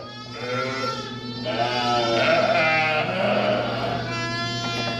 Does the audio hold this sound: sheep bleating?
yes